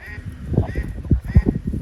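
A duck on a carp fishing lake gives several short, nasal quacks at irregular intervals against low outdoor background noise.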